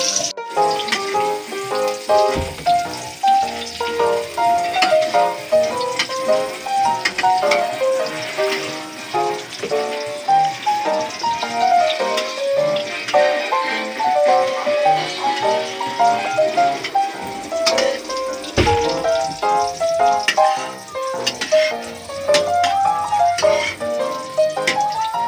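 Eggs and hotdogs frying in a pan crackle and sizzle steadily and loudly throughout, with occasional clinks of a utensil and no voices.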